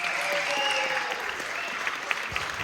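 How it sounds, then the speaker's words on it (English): An audience at a televised talent search in a miners' institute hall applauds steadily for a couple of seconds, moderately near, with a faint voice in the background. "Round of applause for the guys."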